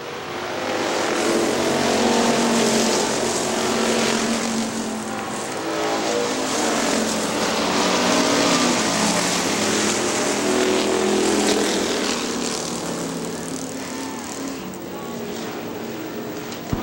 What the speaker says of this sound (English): Chris May leads him to the green out of turn 4